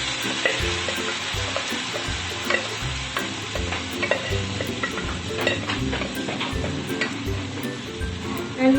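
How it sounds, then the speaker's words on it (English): Cooked bean dal being stirred into fried garlic in a hot pan: a steady sizzle under rhythmic, repeated scraping strokes of a spoon against the pan, close up and continuous with no talk. "we will mix it really well and stir it well"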